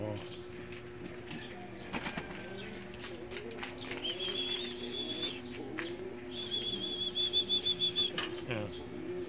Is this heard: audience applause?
no